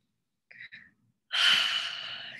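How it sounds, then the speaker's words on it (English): A slow, deep breath taken during a calm guided emotional-release exercise. Two short soft sniffs come first, then one long, close, breathy inhale that fades gradually, with no talking. "take a deep breath"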